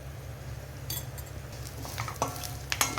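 Lentils dropped into hot oil and stirred in a pan, a quiet sizzle under low background hum, with scattered clinks and scrapes of a spoon on metal growing busier toward the end.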